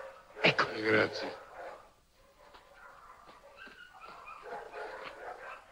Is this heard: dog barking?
yes